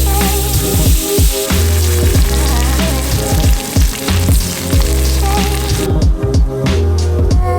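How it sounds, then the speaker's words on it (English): Ribeye steak searing in butter in a hot cast iron pan, a loud, steady sizzle and crackle with sputtering pops throughout, close up and without talk. "sear it on a hot cast iron with some butter"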